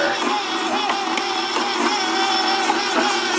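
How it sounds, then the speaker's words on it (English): A KitchenAid stand mixer with the paddle attachment runs steadily, a continuous motor whir with a rhythmic churning pulse as it mixes cookie dough, close and loud. "Now we're going to put on the paddle attachment, this KitchenAid mixer."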